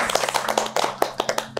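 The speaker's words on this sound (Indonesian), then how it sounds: "Tepuk tangan." Applause from a small group for the cast of the film Koma on an Indonesian entertainment show, with irregular, fairly close hand claps and taps over about two seconds and a faint voice underneath.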